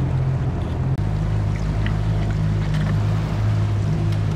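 A fishing boat's outboard motor drones steadily while cruising on a river, a loud, even hum with harmonic tones and water slapping against the hull, no talking.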